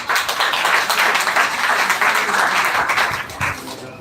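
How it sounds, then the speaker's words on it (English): An audience at a student speaking competition breaks into applause for the next speaker, a loud burst of many hands clapping that holds steady for a few seconds and then begins to thin out. "please clapping big hand for Saloni Kumari"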